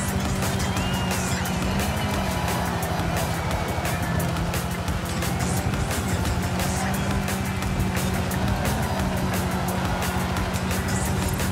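A fast car in the racing game Forza Horizon 5 drives through a rally course in Sierra Nueva, its engine droning loudly and continuously at high revs with slight pitch shifts throughout.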